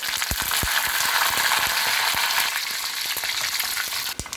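Red chilies and curry leaves frying in hot oil for gongura chutney, a dense close crackling sizzle with sharp popping bursts and a few clicks near the end.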